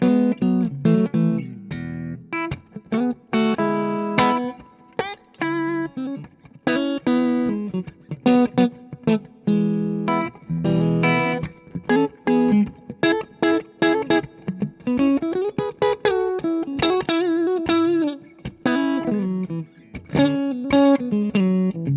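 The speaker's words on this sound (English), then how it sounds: "That's the sound of a Strat to me, that neck and middle." A Fender American Performer Stratocaster on the neck and middle pickups plays a lively run of notes and chords, clean with some effects, close and continuous for about twenty seconds without talking.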